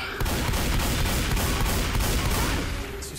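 Continuous heavy gunfire in the zombie shooter game Left 4 Dead 2, a loud, dense barrage of rapid shots and booms that barely lets up.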